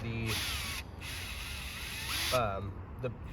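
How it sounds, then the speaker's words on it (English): Cordless power drill driving screws to join a workbench leg to its side piece in a one-car garage shop, two sustained whirring bursts with a shorter rev after, close and loud, with a brief voice between bursts. "I'm starting off with screwing the leg to the side piece"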